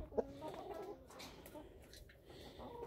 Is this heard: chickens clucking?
yes